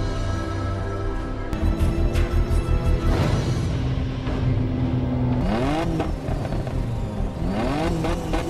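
Race cars take off at the start of a downhill mountain race in a film, engines revving and whining upward in rising sweeps, loud and close, with a sharp change in the middle and no speech.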